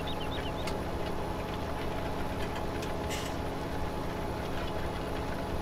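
Case tractor engine in the video game Farming Simulator 17, a continuous low mechanical drone holding steady throughout, with brief faint clicks layered on top.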